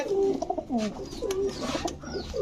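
Army Fat pigeons cooing in a loft, repeated soft throaty coos in close succession, some overlapping, with faint background noise.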